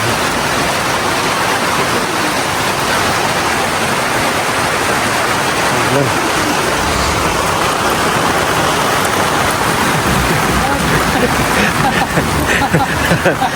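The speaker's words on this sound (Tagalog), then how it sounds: "Lakas ng ulan." Loud, dense downpour roaring steadily without a break, heavy rain pounding close by; faint voices may be buried under the noise.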